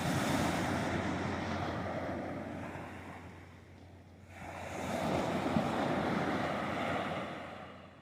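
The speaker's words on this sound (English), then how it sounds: "It's a little bit loud today. The wind's picked up and it's very foggy." Strong wind and ocean surf on a foggy day at Holden Beach, North Carolina, a loud continuous roar of breaking waves and gusts buffeting the microphone, dipping briefly midway before surging back.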